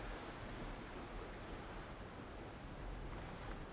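Steady rushing water from a waterfall in the Fortnite video game, a continuous broadband wash holding level throughout with no speech over it.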